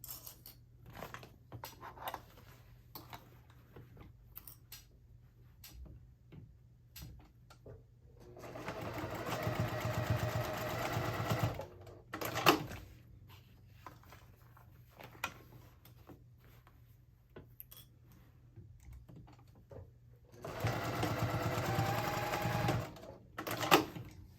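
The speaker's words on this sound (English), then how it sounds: "on the outer I'm going to add a second row of stitching closer to the edge of the material" A home sewing machine runs two loud, steady bursts of stitching, each several seconds long, laying a second row of stitches near the edge of a fabric wristlet panel. Quiet handling noises fill the gaps between runs.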